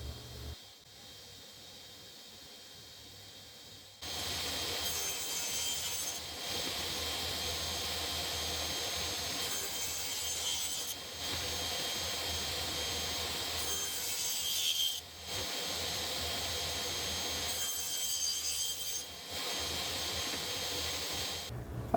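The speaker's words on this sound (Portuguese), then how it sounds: "Vou fazer o primeiro e o segundo corte, usando o ponto máximo e mínimo do gabarito" A saw cuts into wood to form a slot for an aluminum rail on a drill press table, in repeated long rasping strokes separated by brief pauses, after a quiet start.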